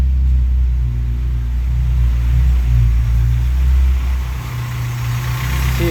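Honda G23 engine running cold with piston slap, a steady low rumbling idle with a faint knocking texture, close and continuous, no voices.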